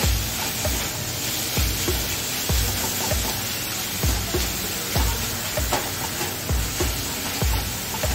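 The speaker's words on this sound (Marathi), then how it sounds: "त्याच्यात आपण हा ठेचा घालायचा आहे। आणि चांगलं परतून घ्यायचं।" Cucumber with thecha, a crushed chili paste, plus softened onion and tomato sautés in hot oil, giving a steady loud sizzle and hiss broken by regular stirring scrapes.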